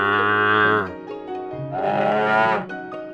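Water buffalo lowing in a radio drama set in rice-harvest countryside, two long, loud, close moos in succession, each a deep, drawn-out bellow, heard alone.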